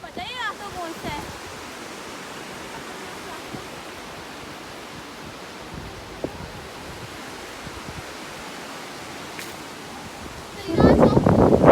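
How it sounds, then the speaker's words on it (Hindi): Steady broadband rush of a fast mountain stream in the Chitral area, continuous and fairly loud with wind mixed in, ending in a brief louder burst near the close. No voices. "पानी की आवाज़ और हवा की आवाज़ आप लोग सुन के आपको समझ पड़ रही होगी भी पानी का प्रेशर कितना था और हवा कितनी थी"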